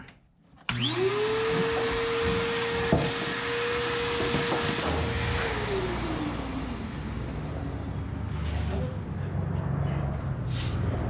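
Stanley 4 horsepower shop vac vacuuming out a junkyard Datsun 620, switching on abruptly and then holding a loud, steady whine with a roaring airflow hiss that dips slightly in pitch partway through, up close and alone.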